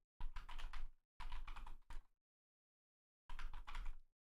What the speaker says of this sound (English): I was typing in a bunch of keywords trying to find it.